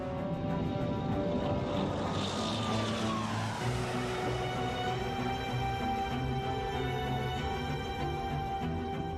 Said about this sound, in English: Both planes take off into a stormy sky.